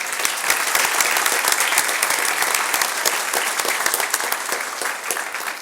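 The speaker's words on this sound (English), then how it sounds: "How about a big hand for Julian Zavala?" Sustained audience applause fills a school board meeting room, steady dense clapping from a crowd that holds for several seconds before easing slightly at the end.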